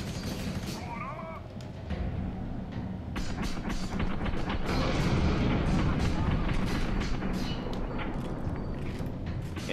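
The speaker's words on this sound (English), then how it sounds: "And I got hit by an explosion anyway." Explosions and gunfire rumble through the FEAR 3 shooter game, a dense run of sharp cracks and booming blasts over a constant low roar, building in intensity midway, with voices heard among the noise.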